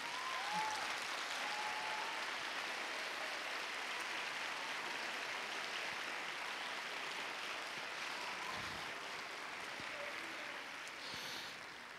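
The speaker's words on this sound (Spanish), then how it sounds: "pues un fuerte aplauso para ti también." A large crowd at a band competition results announcement applauds in a dense, continuous roar of clapping that holds steady for a long stretch and eases slightly near the end.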